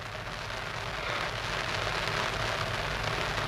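Steady heavy rain pours down at an outdoor heritage railway transport rally in West Somerset, a dense continuous hiss of drops on surfaces that grows slightly louder partway through, with no voices.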